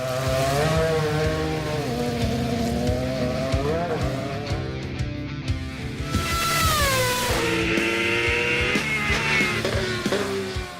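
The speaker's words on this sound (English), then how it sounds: "This is the first time Max will drive a Formula One car on the limit." A Formula One car runs flat out on a circuit with Max Verstappen at the wheel, its loud engine screaming continuously, the pitch climbing and dropping with gear changes.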